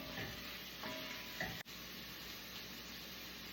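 Carrots cooking in butter in a pan, a soft steady sizzle with faint stirring scrapes early on, heard up close with no talking.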